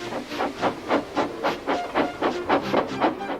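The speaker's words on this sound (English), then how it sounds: "Gordon, with much noise and blowing of steam, got ready to back onto the train." A steam locomotive puffs out steam in a fast, regular series of hissing chuffs, about three per second, loud and near with no voices.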